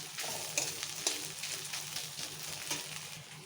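Onion and grated ginger sizzle in a hot pan while a utensil stirs and scrapes through them, a continuous frying hiss broken by soft clacks of the spoon, close and without talk.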